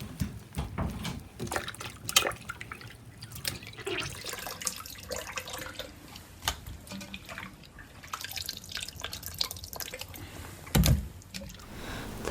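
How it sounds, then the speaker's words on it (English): Water drips and trickles close up as washed, soaked dried mushrooms are squeezed by hand, in irregular splashy bursts with no talking. "Squeeze out the water during the final wash."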